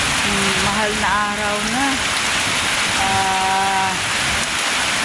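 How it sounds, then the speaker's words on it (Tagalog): Heavy morning rain pours down steadily during Holy Week, a constant loud wash of falling water throughout while a person talks over it. "grabe ang lakas ng ulan"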